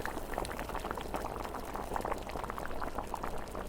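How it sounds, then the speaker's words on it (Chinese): Pork ribs blanching in a pot of boiling water with scallion, ginger and cooking wine, a faint, continuous bubbling and gurgling with no talk. "先把排骨给它焯个水， 加上葱姜和料酒，"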